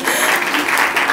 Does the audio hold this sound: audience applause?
yes